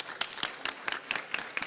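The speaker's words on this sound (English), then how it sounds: "Won't you give her a big round of applause?" Applause at a Los Angeles County Board of Supervisors meeting, with sharp, evenly spaced claps at a brisk steady rhythm, heard fairly close and without speech.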